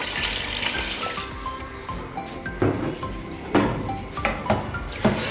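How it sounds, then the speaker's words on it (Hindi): Water is poured into a pot of meat and separated oil for nali nihari, giving a steady sizzling, rushing wash with a few louder splashes and clinks near the end. No one speaks. "पानी डालूँगी।"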